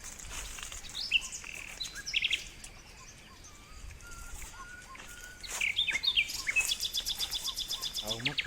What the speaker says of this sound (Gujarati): આ હોલા પક્ષીનો અવાજ આવે છે.